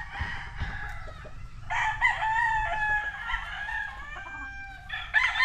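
A golden gamecock brood rooster crows loudly and close by, one long cock-a-doodle-doo followed by a second rising crow, with faint clucking from other fowl in the background.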